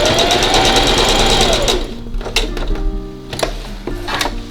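Sewing machine stitching across two fabric pieces placed right sides together, a steady close whir for under two seconds that stops, followed by faint clicks and handling noises.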